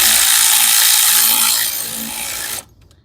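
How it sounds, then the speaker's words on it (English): An automatic ratchet wrench spins off brake caliper bolts on a 2000-2005 Impala or Monte Carlo front brake job, a loud continuous whirring rattle that eases slightly before cutting off abruptly. "I'll get them the rest of the way off with this automatic ratchet wrench."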